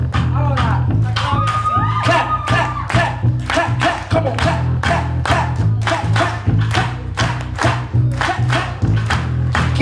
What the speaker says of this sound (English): We're gonna do a little clapping real quick